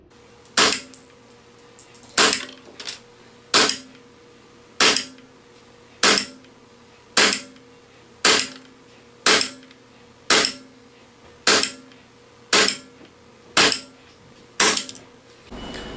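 WE Galaxy G Series airsoft pistol fired outdoors, about fifteen sharp single shots at a steady pace of roughly one per second, loud and close, each crack followed by a brief metallic ring.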